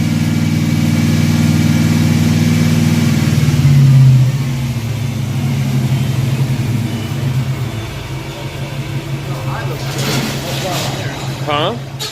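Car engine fitted with throttle body injection, suspected of having bad spark plugs, revving loudly up close then settling into a rough, uneven idle, with someone talking over it near the end.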